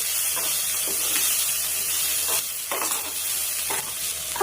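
Curry stirred in a pan with salt, masala powder and curry leaves: steady scraping strokes of a spoon against the pan, repeated every second or so, over a continuous close sizzling hiss.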